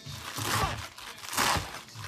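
A knife chops fresh bok choy for a Thai vegetable stir-fry, giving two crisp, crunchy cuts about a second apart, up close.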